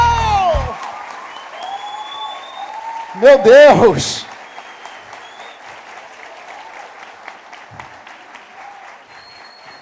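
A church congregation at a celebration service claps along in a light, rhythmic patter beneath music tones, with a loud burst of cheering and a shouted exclamation partway through.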